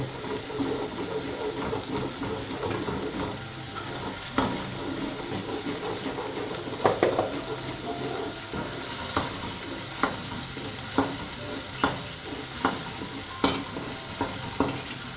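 Pav bateta masala is stirred hard in a pan over a high flame. A continuous loud sizzle runs underneath while a spoon scrapes the pan in regular, rhythmic strokes, close and without talk.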